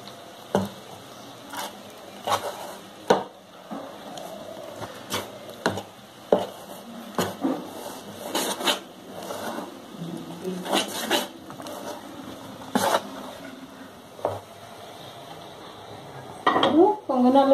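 Dosa batter ingredients with salt are stirred in a bowl, giving a string of sharp clacks and wet scraping knocks at an uneven pace, with voices talking now and then.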